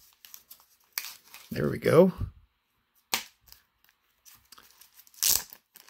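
A taped mail package of trading cards is cut and ripped open, giving a few sharp tearing and crinkling bursts between quiet pauses, close by, with someone speaking briefly.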